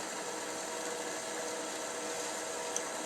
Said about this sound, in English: It takes 20 minutes to drill